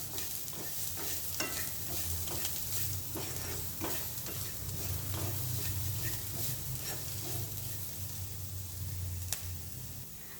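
Pepper and chili powder are stirred into a mixture in a pan, giving soft repeated scraping strokes over a faint, steady sizzle. The sound is close and quiet, with no talking.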